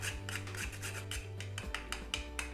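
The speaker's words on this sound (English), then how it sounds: "And now I'm gonna grate the nutmeg." Whole nutmeg being grated by hand for Indonesian chicken satay, heard as close, quiet rhythmic rasping strokes, about ten in quick succession over a low steady hum.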